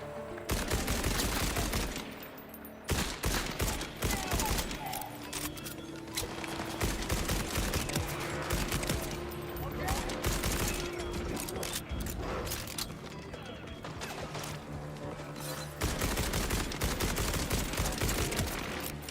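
Heavy gunfire in Borderlands 4 rattles almost nonstop, loud and close, with rapid automatic bursts, mechanical clanks and ratcheting reload sounds, pausing briefly before resuming.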